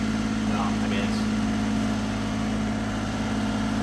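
A restored tracked Honda Acty runs at a steady, fairly high idle, with a constant low engine hum and droning tone heard close up, while voices briefly talk over it.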